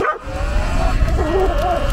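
A dog riding along on a Sur Ron e-bike yips and whines close by, its wavering cries over steady rumbling road and wind noise.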